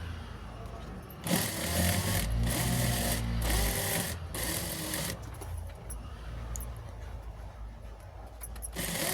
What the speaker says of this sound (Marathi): एका शिलाईमध्येच पूर्ण राऊंड शेपमध्ये करत आहे.